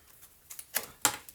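Tarot cards being shuffled by hand, heard as a few short, crisp riffling bursts of card stock, fairly close and quiet, with no voices.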